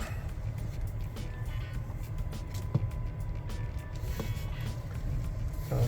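A Honda car rolls slowly through a parking lot, its low steady engine hum and road rumble continuous and fairly quiet, with a few faint knocks and clicks over the drone.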